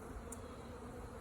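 Honeybees buzz at a newly restocked hive, a continuous, close hum of many wings holding steady throughout.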